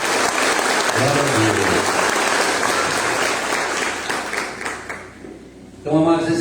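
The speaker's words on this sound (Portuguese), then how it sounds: "Quem pode aplaudir um forte" A church congregation applauding loudly, sustained dense clapping from a large crowd that fades toward the end before a voice speaks over it.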